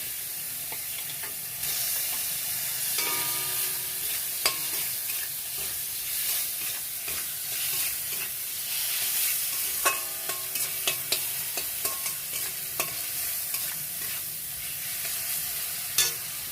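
Fish oil with ground spices fries in a pan, hissing steadily close by while a utensil scrapes and knocks against the pan in irregular stirring strokes.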